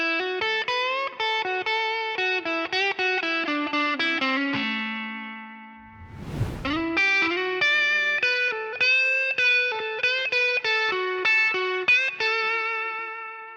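Distorted electric guitar plays a busy blues lick with sliding notes, a brief noisy scrape midway, then continues with quick repeated phrases; no talking.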